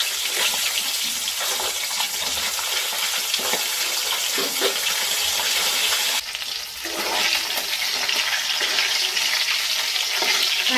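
Fish head frying in hot oil in a pan, a continuous close sizzle with crackling pops and occasional scraping as pieces are turned, growing brighter partway through.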